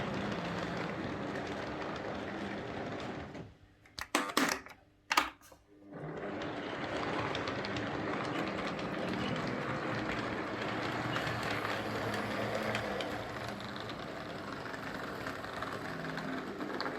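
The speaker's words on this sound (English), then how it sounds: "Let's put a whole train down it. Class 33 with 3 intercity coaches." A model train, a Class 33 locomotive with three intercity coaches, rolls steadily along the track with a continuous whirring rumble, broken briefly by a few clicks and a short quiet gap before the running resumes.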